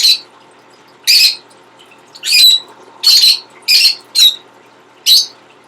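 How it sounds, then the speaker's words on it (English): Loud, shrill lovebird squawks and chirps in about seven separate bursts, spaced irregularly over a quiet background, from a caged bird. "There's going to be a lot of chirping going on"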